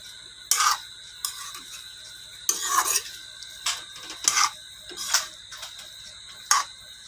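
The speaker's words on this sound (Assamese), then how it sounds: "এতিয়া মই ভালদৰে লৰাই দিম।" Pumpkin and potato being stirred in a pan, with a spoon scraping and clinking against the metal in separate short strokes, close and fairly loud, spaced unevenly and with no talking.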